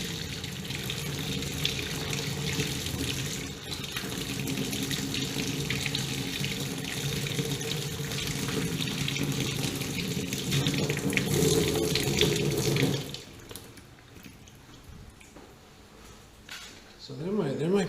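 A tap runs at full blast in a loud, steady gush of water for about thirteen seconds, then cuts off, leaving a quieter room with a brief sound near the end.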